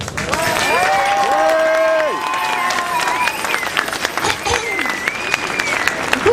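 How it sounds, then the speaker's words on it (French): Applause and scattered cheering from a crowd at an outdoor climate march, with tonal whistles or singing voices rising and sliding over the clapping before it thins out. "Je remercie de lui faire des applaudissements."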